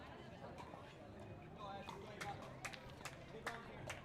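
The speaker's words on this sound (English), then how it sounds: "And you hear the Flamingos crowd" Crowd of Flamingos fans cheering and chattering against the hometown side at a professional pickleball championship court, a steady murmur of many voices with scattered louder shouts and sharp claps rising near the end.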